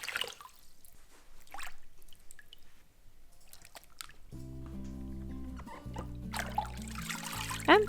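Water trickles and splashes as it is poured into a vat of paper pulp made from teabags, with soft drips and sloshing close by, followed by a steadier low pour toward the end.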